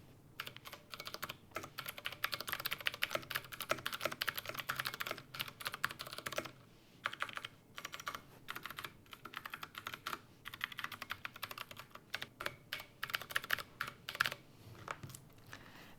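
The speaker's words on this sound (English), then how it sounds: "ours has Cherry MX blues, and I'm now going to do a little type test to see how it sounds" Rapid, clicky typing on a plastic keyboard fitted with Cherry MX Blue switches, close and steady, with dense bursts of keystrokes separated by short pauses.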